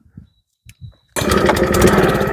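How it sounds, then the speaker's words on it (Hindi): A self-start power weeder engine fires up after a few faint clicks and quiet bumps, then runs loud and steady with a continuous motor roar. "खड़ा हुआ पावर वीडर, इसी को चला कर दिखाते हैं जी"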